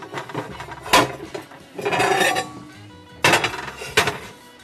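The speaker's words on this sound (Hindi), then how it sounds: "मैं निकाल लेता हूँ एक अदर ट्रे जिसमें हमने इसको फैलाना है।" A large metal tray is pulled out and set down in a home kitchen, giving several sharp clanks and clatters close by, with a rattling scrape between impacts and no speech.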